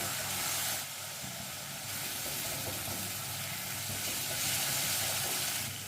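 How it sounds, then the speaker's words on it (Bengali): Bengali spice paste for vegetarian mouri potol (pointed gourd with fennel), loosened with a little water, fries in a pan with a steady, close sizzle and hiss that swells and eases slightly, no voices. "মশলাটার মধ্যে সামান্য একটু জল দিয়ে দিলাম দিয়ে ভালো করে মশলাটাকে কষিয়ে নেব"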